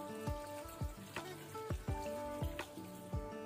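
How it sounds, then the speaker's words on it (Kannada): Water poured from a glass into a pressure cooker pot holding salt, turmeric and asafoetida for ridge gourd dal, heard as a run of splashing, dripping pulses close by with no talk. "ನಾನಿಲ್ಲಿ 1 ಲೋಟ ನೀರು ಹಾಕೊಂಡೆ"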